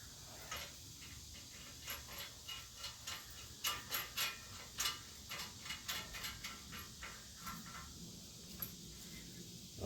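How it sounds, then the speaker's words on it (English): Faint metallic clicks and ticking of lug nuts spun by hand onto the wheel hub of a Toyota 4Runner during a front brake job, an irregular run of light taps over steady background hiss. "we're going to hold them in place by using some of the lug nuts"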